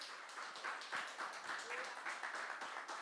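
A church congregation claps steadily in rhythmic unison, a dense, even patter of many hands sounding at moderate distance with a voice faintly mixed in beneath.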